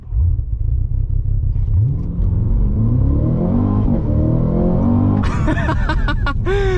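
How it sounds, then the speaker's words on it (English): A 2023 Cadillac CT5-V Blackwing launching in track mode: a brief rev, then a loud, close, rising engine roar as it accelerates hard through the gears, with sharp shift pops near the end and no talking. "floor the brake, floor the gas. It revs up just a little bit and off we go"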